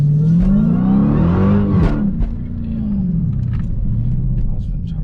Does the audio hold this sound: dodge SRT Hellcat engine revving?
yes